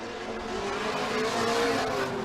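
Loud, sustained engine roar from Formula Drift cars, a V8 and a 4-cylinder turbo, with rising and falling revs and a rough, burbling tone, heard continuously without talk.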